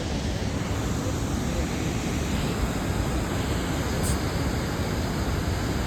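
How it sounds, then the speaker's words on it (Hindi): A swollen, fast-flowing river on the route to Badrinath roars as steady, dense broadband rushing water, loud and continuous throughout with no talk over it. "देखो पानी किस स्पीड से बह रहा है"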